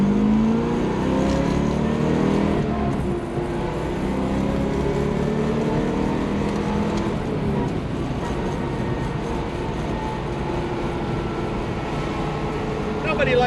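A 1964 Corvette engine runs hard and loud for the whole stretch, a steady, dense roar with rising revs and slight swells, close by, with voices faintly mixed under it.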